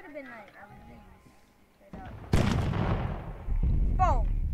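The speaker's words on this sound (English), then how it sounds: "Your cannon just shoot one of your guys. One of your cannons shot the samurai." Cannon fire in the battle game Totally Accurate Battle Simulator: a sudden loud blast at mid-clip followed by a decaying rumble and further heavy booms, with bird-like chirps and game effects around it.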